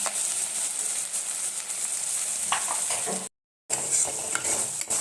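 Spice paste fries in a pan with a continuous close sizzle and a few soft stirring scrapes, cut by a brief silent gap partway through.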